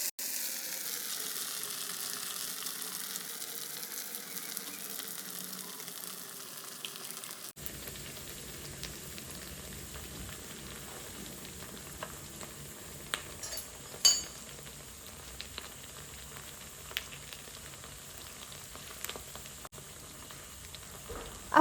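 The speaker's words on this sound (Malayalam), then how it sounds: "ഞാനിതാ പരത്തിയത് ചൂടായ എണ്ണയിലേക്ക് ഇട്ടെടുക്കുന്നുണ്ട്" Flattened Neipathil dough drops into hot oil and fries with a steady, soft sizzle, broken by a few light clinks of a utensil.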